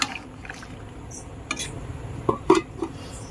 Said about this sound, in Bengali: আমগুলোকে ঢাকা দিয়ে সেদ্ধ করে নেব।